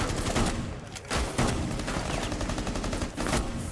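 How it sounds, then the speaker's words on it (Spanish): Gunfire in Rainbow Six Siege with a shotgun in use, several sharp loud blasts spaced across a few seconds over a busy, continuous game soundscape. "¡Pum! Me encanta la escopeta, tío, es una locura."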